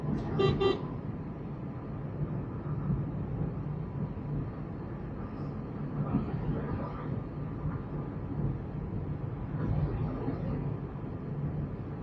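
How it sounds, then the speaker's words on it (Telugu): A car horn toots briefly near the start at a road junction, sounding loud and close over steady engine and road noise inside a moving car. "హారన్,"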